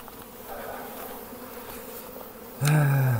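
Honey bees hum at an open hive, a steady close swarm drone that swells suddenly louder near the end as the insects stir.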